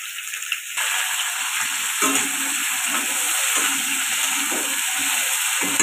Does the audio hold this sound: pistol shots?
no